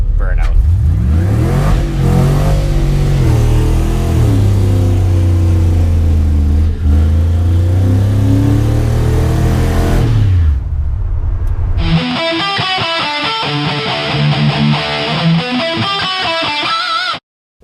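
GMC S15 truck with an LS swap doing a burnout, engine revving hard and loud with a sustained roar for about ten seconds, then a different tonal, music-like passage follows after a brief gap.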